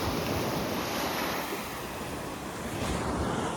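Sea waves wash up onto a clean sandy beach at Dwarka, a constant loud surging hiss that swells and eases slightly, mixed with wind buffeting the microphone, with no talk.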